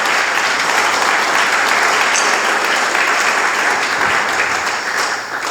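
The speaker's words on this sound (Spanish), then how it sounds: "Dele palmas al Señor si quiere hacerlo." A church congregation applauding together during a sermon, dense steady clapping from many hands filling the room, continuous and fairly loud throughout.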